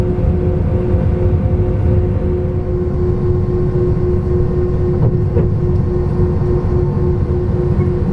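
An SAS Airbus A321 taxiing under its own power, heard from inside the cabin as a loud, steady low engine rumble with a constant tonal hum and a brief faint clunk midway.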